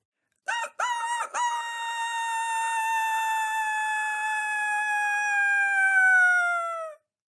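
A rooster crows in one long, loud, drawn-out call after a couple of short clipped starts, clear and close against silence.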